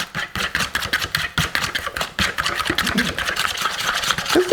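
Sugar mixture for a coconut rum cake being whisked or beaten in a bowl, giving a busy, continuous mechanical whir with rapid scraping pulses, loud and close, running the whole time.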